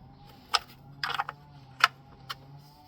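A 15mm combination wrench tightening bolts while a core plug is changed on a 54-plate Ford Fiesta, heard as a few sharp metallic clicks and clanks spaced apart over a low hum.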